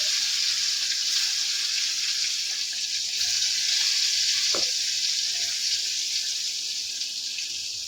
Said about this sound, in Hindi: अभी बैंगन फ्राई कर रही हूँ